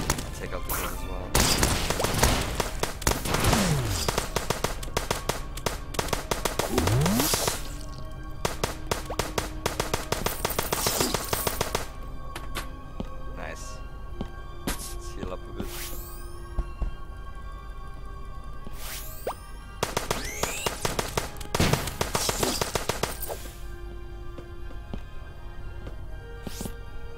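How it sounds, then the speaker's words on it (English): Rocket launcher blasts in the video game Starbound at an Erchius mining facility, with repeated sharp whooshing shots and explosions over a constant electronic game soundtrack, loud and close. "That rocket launcher."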